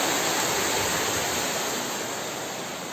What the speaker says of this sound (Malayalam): അതിശക്തമായ മഴയാണ് പെയ്യുന്നത്